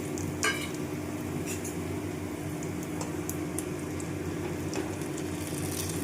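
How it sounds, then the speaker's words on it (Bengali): Cumin, bay leaf, clove, cinnamon, cardamom and a dry chilli are tempered in hot oil, giving a steady soft sizzle with a few sharp crackles and pops. "এখানে ফোড়ন দিচ্ছি, জিরে, তেজপাতা, লবঙ্গ, দারচিনি, এলাচ আর একটা শুকনো লঙ্কা।"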